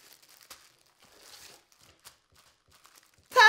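Wrapping paper crumples and crinkles in scattered soft rustles while a Christmas gift is being wrapped, ending in a loud, close crunch of paper.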